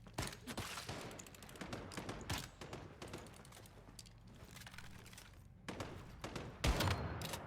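Sniper fire and other gunshots crack in a shooter game, sharp separate reports at irregular intervals, some clustered in quick bursts, fairly faint under a low background with a heavier blast near the end.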